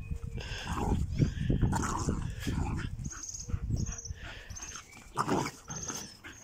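A bull terrier and an American bully play-fight nearby, with repeated throaty growls and snarls running through most of the stretch while a person talks encouragingly over them.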